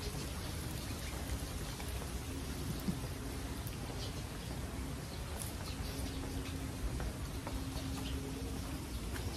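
Steady rain falls outdoors, a constant dense hiss of drops hitting surfaces with scattered nearby patters, moderately loud and unbroken throughout.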